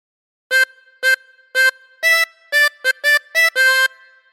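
A harmonica plays the opening phrase of 10 Green Bottles, nine clear reedy notes blown and drawn in turn, some short and some held, close and alone over silence.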